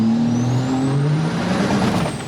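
A twin-turbo Cummins diesel truck launches hard, its loud engine roar rising steadily with a rough, chattering undertone of wheel hop, close and continuous.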